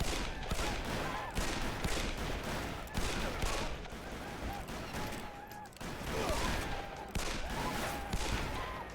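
Dense, rapid gunfire rattles on in a western shootout in the video game Call of Juarez, with volleys of shots overlapping one another continuously at a moderate level.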